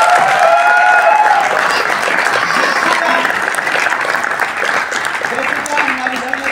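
A theatre audience claps loudly to welcome Mother Mary on stage at an Easter musical at the Arts Council, a sustained burst of applause with some voices and whistle-like cheers rising over it before it gradually eases.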